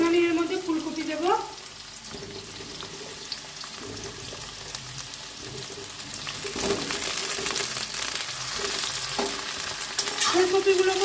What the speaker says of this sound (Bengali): ফুলকপিগুলোকেও হালকা ভেজে নেব